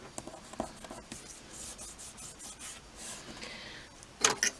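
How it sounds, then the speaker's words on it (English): Paper card being rubbed down by hand to stick it flat while making a new-home window box card, a quiet irregular scuffing and rasping close by, with a brief louder scrape near the end. "Let's give that a rub to make sure it's gone down."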